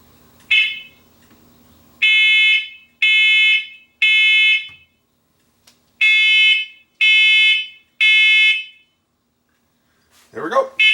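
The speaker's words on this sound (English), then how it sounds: "This one's got a smoke detector and a carbon monoxide detector." A combination smoke and carbon monoxide alarm sounding during a button test: loud, piercing electronic beeps in an evenly spaced series of short bursts, close by, with a brief voice at the end.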